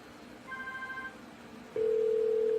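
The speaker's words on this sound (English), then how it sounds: "Phone ringing." A phone call replayed from a Wireshark network capture begins with a short warbling ring tone, then a loud steady tone cuts in and holds, with no voices.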